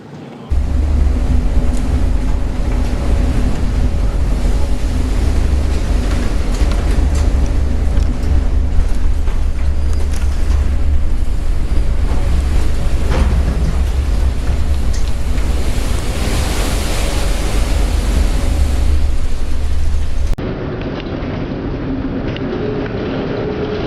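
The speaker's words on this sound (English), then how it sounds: "A severe storm caught a cargo ship in the Pacific Ocean. Huge waves are rolling on the deck." Huge storm waves roll over the deck of a cargo ship in a severe Pacific Ocean storm, a loud, continuous roar of surf and heavy wind buffeting the microphone, easing slightly near the end, with no voices.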